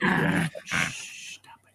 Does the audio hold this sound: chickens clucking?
no